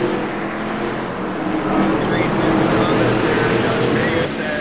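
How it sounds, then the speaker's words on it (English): Race car engines at an auto race, a loud, continuous roar that stays dense and steady throughout, with faint higher whines riding over it and no pause or quiet stretch. "the engines are super loud compared to our voices"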